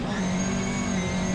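A Classic Mini Miglia race car at a Clay Pigeon Raceway sprint practice track day, its engine droning loud and steady at high revs, close by, for just over a second.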